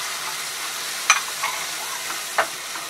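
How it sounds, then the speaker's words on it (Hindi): Onion masala with chili powder, coriander powder and yogurt frying in a pan, a steady hiss of sizzling broken by a few sharp spoon scrapes and clinks. "अच्छे से मसाले को भून लेंगे"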